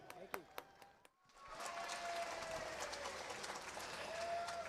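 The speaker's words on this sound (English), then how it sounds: "Great ovation from the crowd" Crowd applause for the winning harness-race trainer at the Dream of Glory Trot 2022, a sustained wash of clapping rising after a few sharp knocks, with a faint tonal whine running through it.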